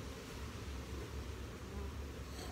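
Honeybees from a hive that had been queenless hum as a steady, dense buzz throughout, a close, continuous swarm drone with no voices.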